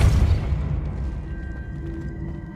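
Depulso force spell cast in Hogwarts Legacy: a deep, heavy boom at the start that rumbles and fades away over a couple of seconds.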